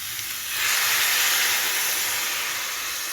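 Water splashes into a pan of frying flat beans and sets off a loud, sustained steam hiss that swells suddenly and then holds steady, close up with no voices.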